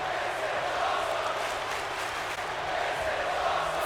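The crowd in a WWE 2K wrestling match cheers as a steady, broad roar that holds evenly throughout, with a commentator's voice over it.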